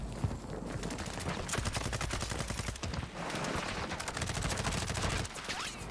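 Dense, continuous gunfire in Warzone 2 solos, many overlapping rapid shots and bursts at moderate distance, with occasional quieter gaps.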